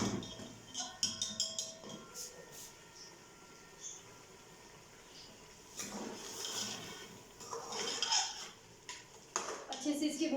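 Beef paya being stirred and sautéed in a pot, with repeated clanks and scrapes of a spoon against metal, rattling pot sounds and a soft sizzle beneath, close and irregular.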